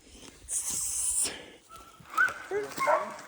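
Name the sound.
hunting dogs on a bear hunt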